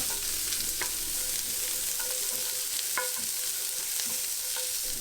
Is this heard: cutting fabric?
no